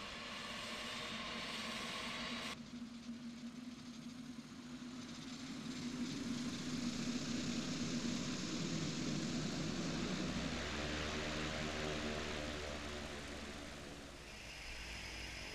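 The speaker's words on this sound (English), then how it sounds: "Move the starter switch to the auto reset position and monitor the engine instruments." A T-6B turboprop trainer aircraft engine starting up, a loud steady whine and roar that builds and shifts in pitch over several seconds, then settles into a throbbing idle, with no voices.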